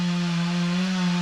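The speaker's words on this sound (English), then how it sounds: "You can hear them in the background using the really loud gas-powered chainsaws." Gas-powered chainsaws cutting wood out in the background, a steady, continuous engine drone that holds one even pitch with no breaks for the whole moment.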